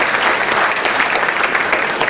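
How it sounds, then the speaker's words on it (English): Dense, loud applause from an audience at an Eid event in a hall in Woodside, Queens, an unbroken wash of many hands clapping throughout. "Let's give him another big round of applause"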